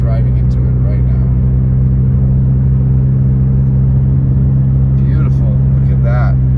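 A car drives along a snowy valley road in Big Bear Lake, California, before dawn, its low steady engine rumble and road noise constant and close throughout, with brief higher rattles near the end.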